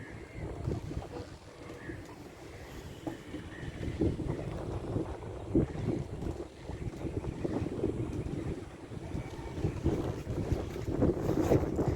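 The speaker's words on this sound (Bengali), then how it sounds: "দেখো নদীতে হাওয়া দিচ্ছে" Wind gusts steadily across the river at Prinsep Ghat during a boat ride, a soft whooshing rumble mixed with faint lapping waves and the low drone of a boat.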